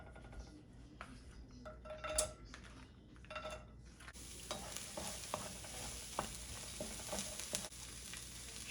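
Chopped onion fries in avocado oil in a pan, with a steady soft sizzle and intermittent stirring scrapes that grow busier and brighter partway through as the oil heats up.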